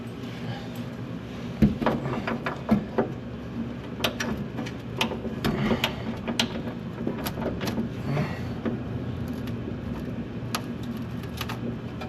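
Ratchet wrench clicking in short bursts while working on a stubborn, heated bolt of a 1927 Dodge Brothers sedan, sharp metallic ticks and clanks close by amid shop noise.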